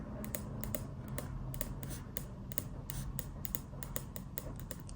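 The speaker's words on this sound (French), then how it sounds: "Ces bruits, c'est du stylo." Rapid, scratchy clicks and taps of a pen moving across paper, steady and busy over a low background hum, with no voices.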